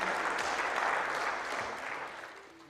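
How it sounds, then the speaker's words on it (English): Audience applause at the Under-23 World Squash Championships semi-finals, a dense steady clatter of many hands that holds loud and then gradually tapers off toward the end. "can we have a big round of applause"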